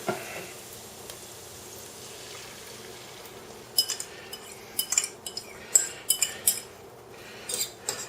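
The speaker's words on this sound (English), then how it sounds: "now I'm going to add in the egg mixture and let that cook" Egg mixture poured into a hot pan of peppers with bacon, giving a soft steady sizzle and a quick run of clinks and scrapes of a utensil against the pan toward the end.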